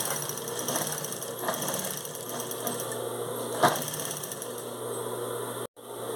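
A sewing machine stitches a fine seam joining the lining to a shoulder bag, a steady close mechanical whir running continuously with one brief stop near the end.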